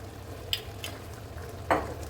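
Khichuri being stirred in a pot after mustard oil is added, with two soft spoon scrapes and a faint sizzle over a quiet, steady background.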